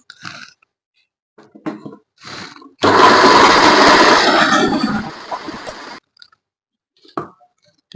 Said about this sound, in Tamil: இதை இப்போ அரைக்க போகிறேன்